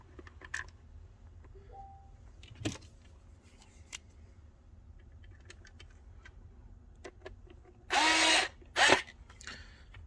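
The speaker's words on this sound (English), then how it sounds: "Now the retaining plate's over the arms of the lid, I'll screw it down." A power drill briefly runs twice, in two short, loud bursts close by, driving screws down on a plastic retaining plate over the lid arms of an iRobot Braava Jet M6 mop during a lid and hinge repair, against a quiet room.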